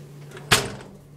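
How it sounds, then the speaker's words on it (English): An indoor bathroom door is pushed shut with a single sharp, close thud that fades quickly into a quiet room. "Can I close the door?"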